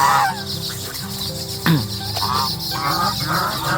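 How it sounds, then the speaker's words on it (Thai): Grey and white Chinese geese honk repeatedly at close range, loud nasal calls overlapping in short bursts from a gathered flock. "ห่านจีนเทาและห่านจีนขาว"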